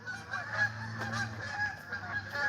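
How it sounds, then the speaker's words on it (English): A flock of geese flying overhead in a V formation honks repeatedly, a string of nasal calls in irregular rhythm, moderately close over a quiet background. "You don't usually see geese in August. Look at a big V, too. They are the cosmic honkers, man."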